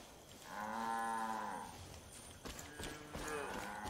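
A cow in the video game Far Cry 5 lets out a long, loud, close moo, followed by clattering hoof-like knocks and a shorter second low call.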